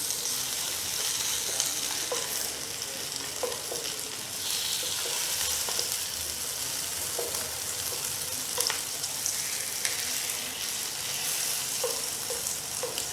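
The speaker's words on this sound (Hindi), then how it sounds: "बहुत ही धीमी धीमी आंच पे इसको फ्राई करेंगे" Food fries slowly over a low flame in a pan, a steady soft sizzle with occasional light stirring clicks throughout, with no talk.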